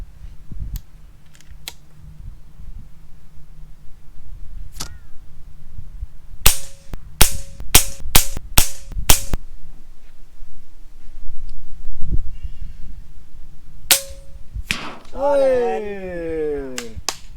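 An FX Impact M3 air rifle fires at a soda can set 200 meters away. Sharp, crisp pops come in a quick cluster, then one more shot follows later, with faint voices and a rising excited voice at the end.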